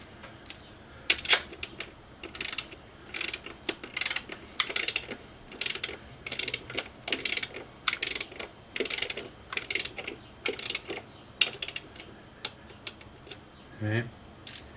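Socket ratchet clicking on a valve cover stud of a BMW N54 engine, with quick bursts of close, sharp ratcheting clicks in steady runs throughout, and talk in the background.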